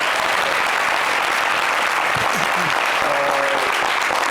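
A crowd claps steadily and loudly throughout, with a brief voice or cheer rising faintly above the applause partway through.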